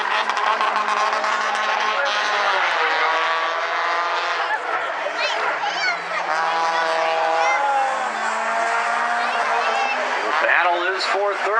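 Race cars roar through a short-track heat race at South Sound Speedway, engines droning and shifting pitch continuously for several seconds, loud and steady beneath a track announcer's ongoing commentary.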